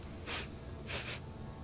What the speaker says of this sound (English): Why is the lady sniffing around?